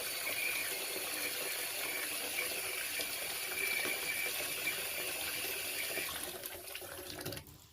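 Water gushes steadily from a tap into a bucket, hot water being run for washing greasy Suri alpaca fleece; a continuous broadband splash holds for about seven seconds before thinning out near the end.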